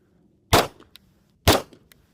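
Two sharp, loud 9mm handgun shots fired at close range about a second apart, each a sudden broadband crack with a brief decaying tail and small echoes after, no talk.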